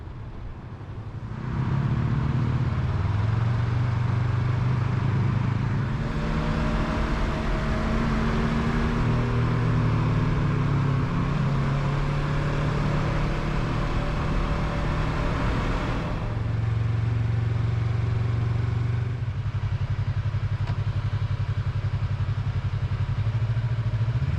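Yamaha MT-03 motorcycle riding on a road, a steady mid-pitched engine drone that rises and falls through gear changes, close and continuous with wind noise throughout.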